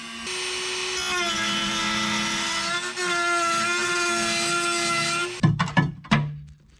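An angle grinder cuts a corner of rusty floor metal in an Autozam AZ-1, a loud sustained high-pitched whine with a brief dip near the middle, ending in a few sharp clanks and knocks.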